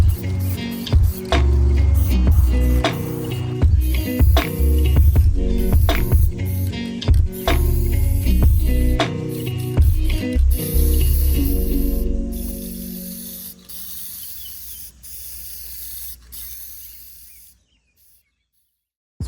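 Aerosol spray cans painting the hood of a 3rd-generation Toyota 4Runner, close bursts of hissing spray broken by clicks and rattles, fading to quiet at the end, with no voices.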